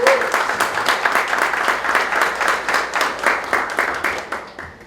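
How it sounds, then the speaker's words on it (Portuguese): Warm applause from an audience at an interfaith gathering against religious intolerance in São Gonçalo, Brazil, with many hands clapping close and lively, holding steady for several seconds before easing off. "Gorito, para o carinho e os aplausos de todos."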